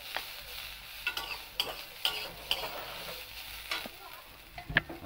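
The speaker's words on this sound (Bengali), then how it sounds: "লাউ ছিলকা ভাজা হয়ে গেল" Bottle gourd peel frying and being stirred in a pan with a little turmeric, giving a soft, steady sizzle broken by scattered scraping clicks of the spatula, close and fairly quiet with no talk.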